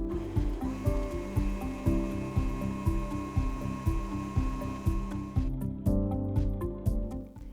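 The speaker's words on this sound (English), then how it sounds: "Beat until foamy." Electric mixer whirring steadily as it beats egg whites with cream of tartar for a chiffon cake until foamy, a strong rhythmic motor drone with a change in tone near the end.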